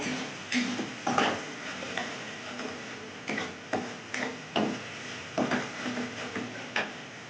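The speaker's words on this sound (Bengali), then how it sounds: "দিয়ে এবার এই মশলাটাকে ভালোভাবে কষিয়ে নেব।" Spice masala with chili powder is stirred and fried in a pan, with a soft background sizzle broken by regular scraping and clinking strokes of a utensil against the metal.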